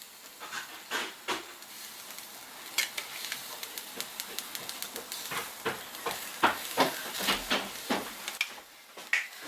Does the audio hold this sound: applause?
no